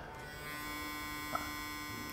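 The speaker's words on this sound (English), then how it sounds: "They said in their presentation that this is the toothbrush that whispers." A newer Oral-B electric toothbrush, billed as quieter, gives a steady electric buzz with a tonal hum, close to the microphone and fairly noisy, with no voices.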